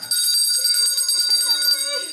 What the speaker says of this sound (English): grab this bell, and ring it loud and proud with your dress